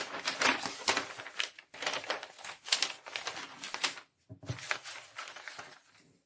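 Scissors cutting through the back side of a paper sleeve pattern, close crisp snipping and rustling paper in three bursts separated by short pauses.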